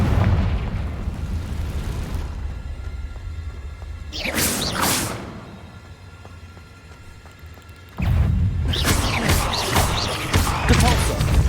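A Confringo blast spell in a wizard game erupts in loud bursts, a sharp whooshing explosion around the middle and another rumbling barrage near the end, with quieter roaring between.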